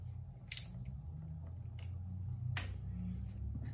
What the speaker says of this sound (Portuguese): Vou cortar o tamanho que eu quero